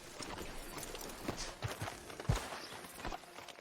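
Soft, uneven clip-clopping of horse hooves in the video game Red Dead Redemption 2, a horse walking at a slow pace, faint and close over quiet ambient background.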